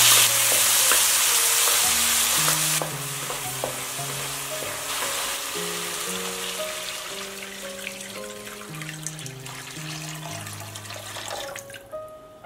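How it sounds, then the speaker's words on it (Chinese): Tomato juice is poured into hot cooking oil in a wok and frying, giving a loud, steady broadband sizzle that gradually eases. Stirring clinks and scrapes come through faintly along with some clattering. "油热之后倒入番茄汁，再少加点盐，用于炒出汁水。"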